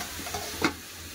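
Soft sizzle of prawns and bitter gourd being sautéed in a pan, with a brief scrape of the spatula stirring near the middle, faint and close.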